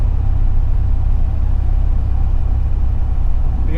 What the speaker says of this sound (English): The O series engine is performing exactly the way you'd think, or you'd hope, and it does sound like an MGB as well.